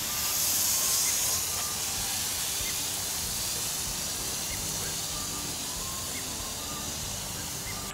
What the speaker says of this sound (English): Goes from water to on, and I just spot spray it around.